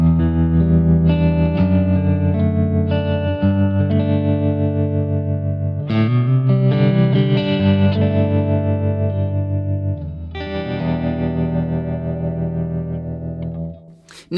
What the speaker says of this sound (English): all I'm going to do is choose the tremolo setting